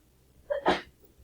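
A single short human sneeze, a quick intake of breath followed by a sharp burst, heard alone in a quiet room.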